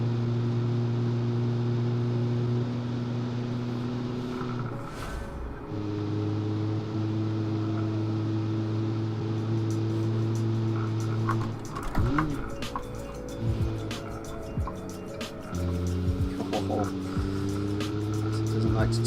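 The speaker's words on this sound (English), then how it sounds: "The engine's working, it's doing something." Simulated car engine from a 1946 Gasmea built in Automation and driven in BeamNG on a Grand Valley time trial, droning steadily with shifting harmonic tones and revving changes, with a voice talking over parts of it.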